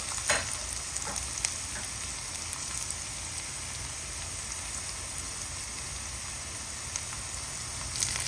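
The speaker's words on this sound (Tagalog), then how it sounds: "Ayan na po ang ating bawang, sibuyas, at ang ating luya. Naigigisa ko na po." Garlic, onion and ginger sautéing in a pan for ginisang upo, a steady hiss of frying like light rain, even and close, with a few faint stirring clicks.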